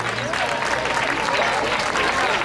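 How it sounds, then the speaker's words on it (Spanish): Applause from an audience at a prize-giving for a school contest, steady dense clapping filling the whole stretch at moderate loudness with no gaps. "Ese aplauso para el trabajo de niños y profesores."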